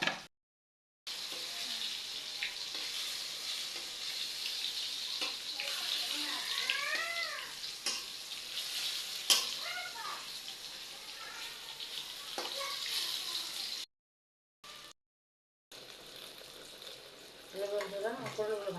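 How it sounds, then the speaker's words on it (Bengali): Pointed gourd (potol) fries in a pan, making a steady hissing sizzle that runs for long stretches with brief cut-off gaps, while a voice faintly speaks partway through. "পটলগুলো ভাজা হয়ে গেছে, নামিয়ে নেব।"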